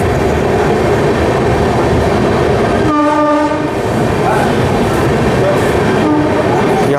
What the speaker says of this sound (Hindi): चांपा जंक्शन के प्लेटफॉर्म नंबर 2 पर अपना अराइवल हो चुका है।